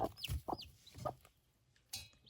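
A hen clucks softly beside newly hatched chicks, some still breaking out of their shells, giving a few short, close, quiet clucks with high chick peeps between them.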